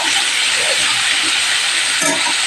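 A potato and turnip curry tempered with five-spice sizzles in a pan, giving a loud, steady frying hiss that stays constant throughout with no talking.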